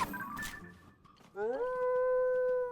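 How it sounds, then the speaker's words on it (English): A dog in the video game Zelda: Tears of the Kingdom gives a short noisy yelp, then a sustained whining howl that rises and holds steady, fairly close and alone. "I heard a dog! We got dogs"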